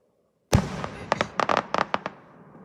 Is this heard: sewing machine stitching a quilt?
no